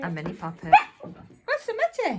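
A dog gives short, high whimpering yips and whines, mixed in with close conversational speech from people nearby.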